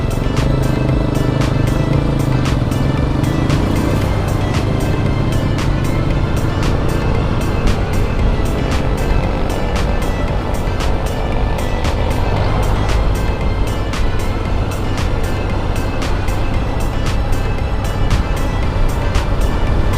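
Motorcycle cruising along Roxas Boulevard in Manila on a Saturday with light traffic, a steady close engine drone and road rumble running unbroken throughout without a break.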